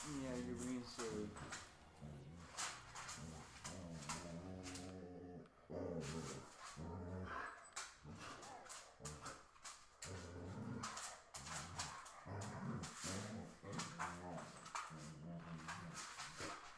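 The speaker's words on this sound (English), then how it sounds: "This is my silly puppy dog." A pet puppy growls, whines and whimpers in long rising and falling vocal stretches, close and fairly loud, with a person's voice mixed in.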